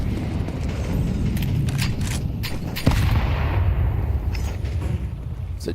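Gunfire from a Counter-Strike match at a PGL Cluj-Napoca tournament, with sharp shots and bursts of varying loudness over a constant low rumble of game ambience and crowd.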